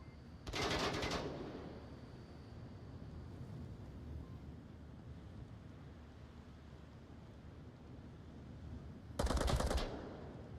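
Gunfire in the VR shooter Onward on the USS Quest map: one short, sharp burst near the start and a second near the end, separated by a long stretch of faint windy ambience.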